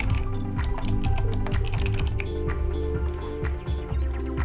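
Typing on a computer keyboard at a desk, with a fast, busy run of clicky keystrokes that continues without pause, close and fairly loud with no voice heard.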